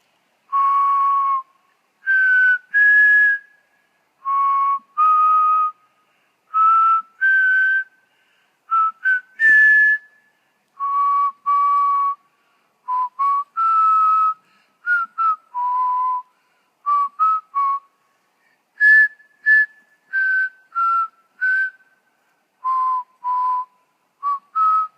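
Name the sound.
person whistling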